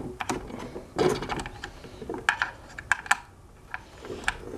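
Metal tool clicks and ratcheting scrapes from an Allen wrench being worked loose on the wheel mount of a smart balance board, a scattered series of sharp close ticks with short gaps and a few louder snaps.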